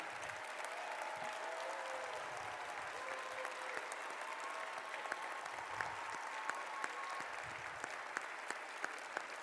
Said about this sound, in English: I would like to give one more big round of applause for Princess Rogers and her anthem that she sang today.